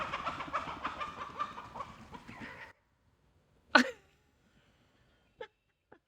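Chickens cluck and murmur against a rough background noise, then everything goes quiet before a single sharp squawk and a couple of faint clucks.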